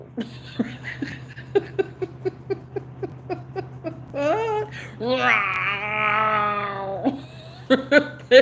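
A voice imitates a cat, giving a long drawn-out meow after a run of short rhythmic vocal sounds, close and fairly loud.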